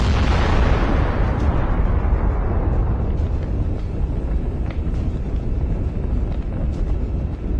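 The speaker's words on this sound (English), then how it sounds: "the shells for the 125mm gun will ignite and cause a spectacular explosion" A sustained, roaring explosion of a tank's 125mm gun ammunition after a drone hit rumbles loudly throughout, heavy low-end noise with crackling pops, like a long burning blast heard outdoors.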